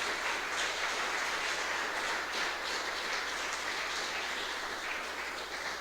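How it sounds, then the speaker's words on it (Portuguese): Church congregation applauding, a dense continuous patter of many hands clapping at a steady level throughout, sounding like rain. "Uma salva de palmas para Jesus"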